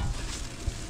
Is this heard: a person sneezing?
no